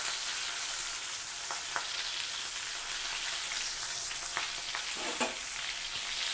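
Green chillies frying in a pan for pudina pachadi, giving a steady, dense hiss of hot oil with a few faint stirring taps, close and even throughout.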